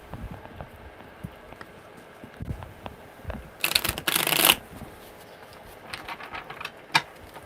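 Tarot cards shuffled by hand, a soft run of riffling card flicks with a louder burst of rapid shuffling in the middle, close and quiet, with no talking.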